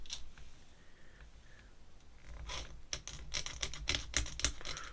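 A very hard pen nib scratches across paper while a clown doodle is drawn, giving dry, quiet strokes at first and then a run of sharper, quick scratchy ticks in the second half.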